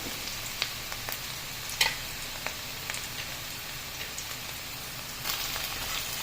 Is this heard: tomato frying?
yes